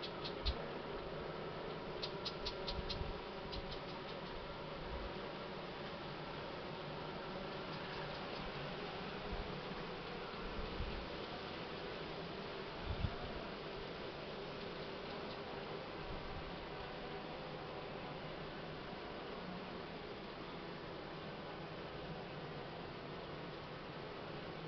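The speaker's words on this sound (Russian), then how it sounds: "Ну, бакфаст, пчелки ходят молодые" Young Buckfast honey bees hum steadily at an open hive, a soft continuous drone with a few faint taps and knocks scattered through it.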